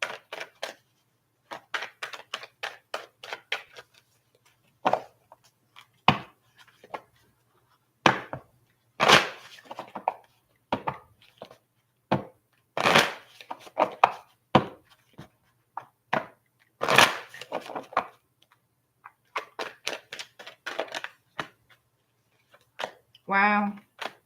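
A Moonology oracle card deck is shuffled in quick, irregular flurries of crisp card clicks and slaps, near and fairly quiet, with brief gaps between the bursts.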